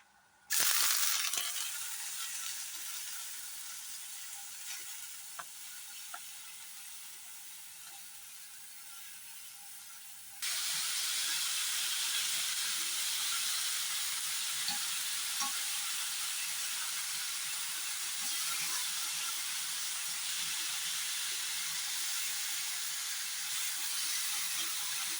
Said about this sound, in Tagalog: We toast the pork belly first.